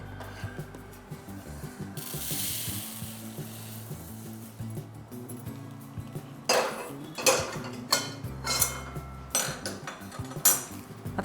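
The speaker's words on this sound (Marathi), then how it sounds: "आपण याला काढून घेऊ आता एका परातीमध्ये।" Roasted coriander seeds are scraped from a pan into a wide plate, with rubbing and scraping, utensil clatters and a rustling pour midway, then sharper scraping bursts near the end; no talking.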